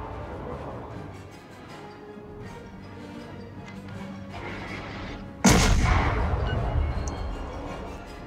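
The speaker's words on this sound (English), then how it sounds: "fire high explosive to the superstructure" A battleship in World of Warships fires high explosive shells in a single loud, booming salvo that rumbles and decays over a few seconds, following a stretch of quieter ambient game noise.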